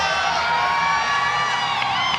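A large arena crowd at the 2017 IWF Weightlifting World Championships, women's 90 kg session, cheers a lifter with loud, sustained roaring and shouting that stays at full intensity throughout.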